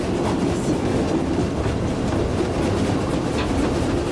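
Steam locomotive at a zoo park hauling its wagons on rails, a steady loud rumbling roll with rhythmic clickety-clack of wheels over track joints, close by and without talk.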